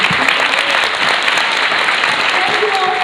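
An audience applauds after a stage performance of The Inspector General, dense continuous clapping throughout, with a voice heard faintly over it.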